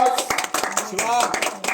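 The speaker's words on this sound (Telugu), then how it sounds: "గట్టిగా చప్పట్లు పెట్టాలి ఒకసారి" Applause from an audience at a village prize-giving for fruit-growing winners in Arlagadda, a dense patter of hand claps that runs right under someone talking over a loudspeaker.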